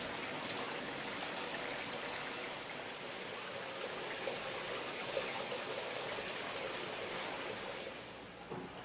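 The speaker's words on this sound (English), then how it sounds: "warm water springs, such as here in Yunomine, the most ancient thermal town of Japan" Hot spring water flowing at Yunomine onsen in Japan, a steady rushing trickle and splash of water that stays even and close throughout with no voices.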